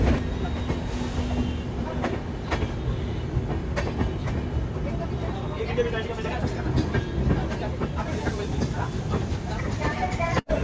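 The Amrit Bharat Express, running from Malda towards Lucknow, rolls into platform four with a steady rumble, clattering wheels and occasional squeals, heard close and continuous alongside talk on the platform.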